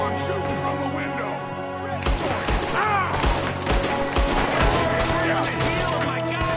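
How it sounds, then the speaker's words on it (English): Gunfire in the video game Red Dead Redemption 2, a dense shootout of repeated rifle and pistol shots, loud and close, mixed with game music and voices. "There's another one shooting from the window."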